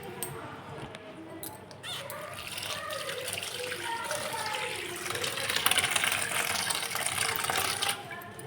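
Water splashes and trickles into a pressure cooker being filled for boiling macaroni, a steady running pour that swells louder toward the end, with faint voices in the background.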